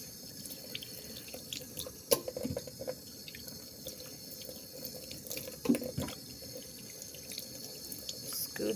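A kitchen tap runs steadily while cut goat meat pieces are rinsed in a sink, with water splashing and occasional knocks of handling, close by and without talk.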